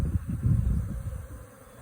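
A swarm of honey bees, freshly shaken from a cut tree limb into a box, makes a close, dense buzzing hum that swells and then eases over a couple of seconds.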